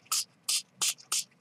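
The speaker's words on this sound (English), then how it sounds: "And then I want to use the chalkboard, and we're going to spray right on top of that" Four short bursts of chalkboard spray paint hiss onto a snowglobe ornament, each roughly a fifth of a second and evenly spaced, close and crisp with quiet gaps between them.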